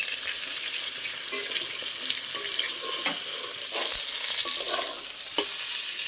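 Pointed gourd (potol) frying in a pan while being stirred: a continuous close sizzle broken by scraping, clinking stirs, with no talk.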